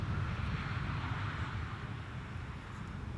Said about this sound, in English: E2 Embraer 195.